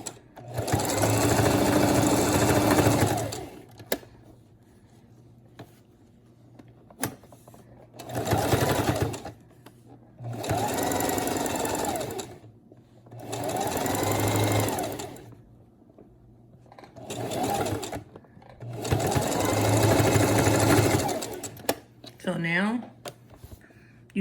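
Bursts of a sewing machine running straight stitches through fabric for a stripper butterfly top, several runs of a few seconds each separated by pauses, fairly close and loud.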